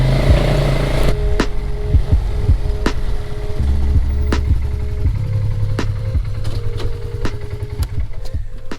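A car on a rough mountain road with its engine rumbling low and close, punctuated by frequent sharp knocks and rattles as the body jolts over bumps and rocks.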